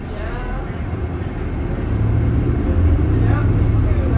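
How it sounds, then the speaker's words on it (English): Interior of a 2019 Nova Bus LFS CNG transit bus in motion, with a steady low engine and road rumble that swells louder partway through, under faint voices. "extra noisy bus"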